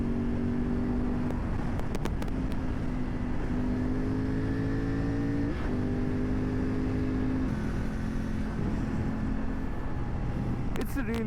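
Triumph Tiger 900 Rally Pro motorcycle riding on a road, its engine droning steadily with a rising and falling pitch as it works through corners, with wind noise and brief bumps, and someone talking over it.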